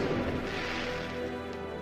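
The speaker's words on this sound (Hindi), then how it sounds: "और टूनी चिड़िया पटाखे चलाती रहती है और अपनी दिवाली मनाती रहती है।" Diwali firecrackers going off in a dense, sustained crackling roar that fills the whole span at steady loudness, with no distinct separate bangs.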